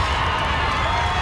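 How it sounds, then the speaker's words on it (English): A crowd at a high school football game between the Hampton Crabbers and Kecoughtan Warriors, a steady loud roar of many voices cheering with no break, heard from the stands side. "Hear the crowd on this side."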